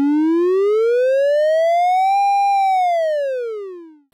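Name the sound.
TC-11 iPad touch synth, pitch changing as finger rotates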